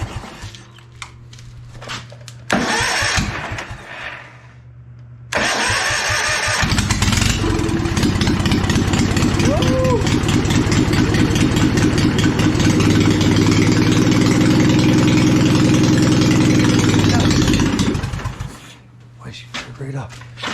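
Boat engine on a jump pack, low battery, choke on, cranking briefly, then catching and running loud and steady with a deep throbbing idle and rising revs for about ten seconds before cutting out.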